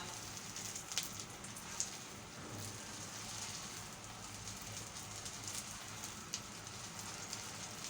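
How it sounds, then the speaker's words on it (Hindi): Hara bhara kebabs fry in oil in a pan, producing a soft, steady sizzle like light rain with a few faint pops scattered throughout. "कबाब को फ्राई करना शुरू कर दिए हैं।"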